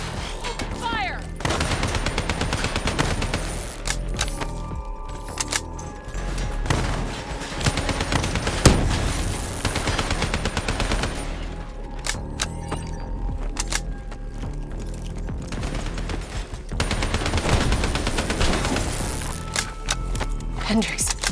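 Sustained automatic gunfire in the video game Call of Duty Black Ops 3, dense rapid bursts with heavy low booms running almost continuously, while voices speak over the shooting.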